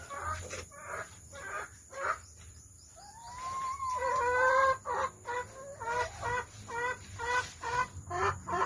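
Free-range Rhode Island Red chickens cluck nearby in a rapid, repeated series, broken midway by a longer drawn-out call, against a steady high background hum.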